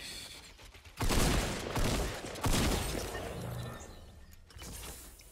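Gunfire in the video game Fortnite, loud sustained bursts of shots rolling in two heavy waves with a fainter volley near the end.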